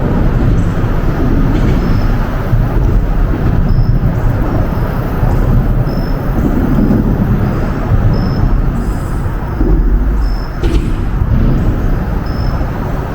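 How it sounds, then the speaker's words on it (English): Road traffic rumbles continuously overhead, heard from beneath a bridge, a dense low roar with faint periodic high ticks as vehicles cross joints above, steady throughout with no talking. "there's something weirdly comforting about listening to the traffic above your head"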